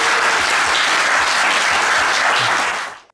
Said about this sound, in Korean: JYP 관계자분들에게 모두 감사의 박수 한번 더 부탁드립니다.